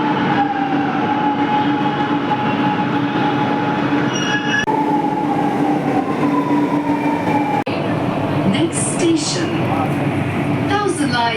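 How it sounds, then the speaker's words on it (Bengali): A metro train rumbles loudly through an underground Chennai Metro station, wheels squealing and rails clattering, with muffled voices in the background. "আমি চেন্নাই মেট্রো স্টেশন আর এখান থেকে যাবো গভর্নমেন্ট"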